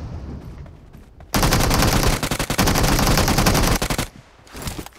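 Sustained automatic gunfire in PUBG Mobile, a dense rapid burst lasting several seconds with brief gaps, loud and close, with no talking over it.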